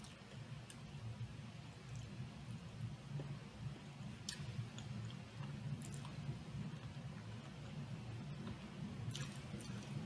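Someone chews a deviled egg made without paprika, a quiet moist chewing with soft, irregular clicks and squishes over a steady low room hum, no talking.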